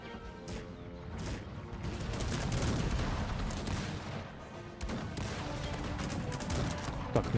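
Musket volleys and cannon fire from a siege battle in Cossacks 3, a dense crackle of overlapping shots and booms, with a louder swell in the middle and scattered sharp reports throughout.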